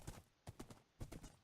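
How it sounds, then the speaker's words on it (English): Horse hooves clip-clopping in the Minecraft video game, three quick clusters of hollow hoof clops in an even galloping rhythm, faint and close, with nothing else over them. "At least I got a horse."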